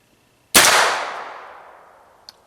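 A single loud gunshot from a BCI Dagger pistol firing subsonic ammunition through its factory muzzle device, a sharp crack with a long decaying ring, followed by a faint click about two seconds later.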